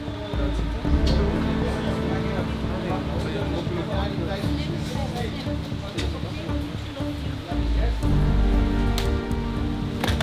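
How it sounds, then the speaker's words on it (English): Rain pattering steadily on a wet go-kart race track, a dense, close wash of drops under constant mechanical rumble, with louder surges near the start and end; voices talk over it. "It started raining again."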